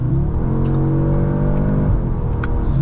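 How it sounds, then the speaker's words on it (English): A 2025 Audi S3 Prestige in dynamic plus mode launches hard under launch control, its engine note climbing loud and steady through quick dual-clutch shifts, close and continuous with no talking. "That gets up to speed incredibly quickly, actually, for this little hot Audi."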